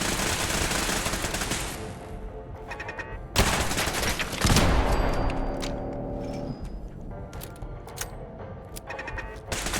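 Automated turrets in Fallout 4's Nuka World open up with dense, sustained bursts of gunfire, a sharp loud volley near the middle followed by continued rattling shots that thin toward the end.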